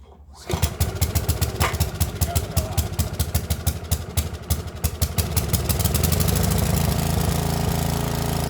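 A scarifier's small engine sputters into life and settles into a rapid, chugging idle, its pulsing beat steady and loud close by as it warms up.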